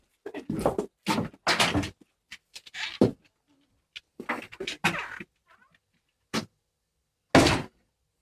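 A house door opens to let a cat outside in a woodcarving workshop, giving a series of short knocks, thumps and scrapes spread over several seconds, moderately close, with no talking.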